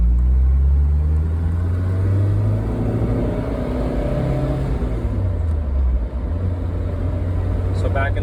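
A 1984 Spider with a 2-liter engine under way, its low engine drone and road rumble loud and steady with shifting pitch as it pulls, while someone talks over it.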